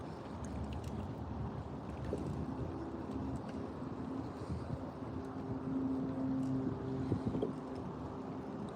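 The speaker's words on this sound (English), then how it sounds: "It's pretty windy out here today." Gusty wind rushes over an open lake while fishing from a boat on a cloudy day, a steady low roar and buffeting that swells and eases without speech.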